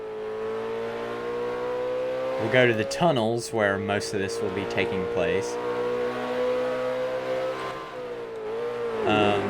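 An Aston Martin DBS in a racing video game revs hard in a burst of rising and falling engine sweeps, loud and close, over a steady idle drone while someone talks.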